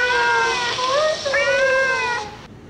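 A human voice imitates a cat with a drawn-out, wavering meow that rises and bends in pitch, heard close and alone before it cuts off.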